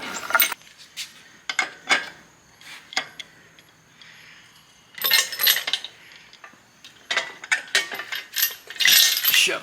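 A ratchet tightens bolts on a junkyard 351 Windsor engine in bursts of rapid metallic clicking, close and fairly loud, separated by short pauses and clanks of tools.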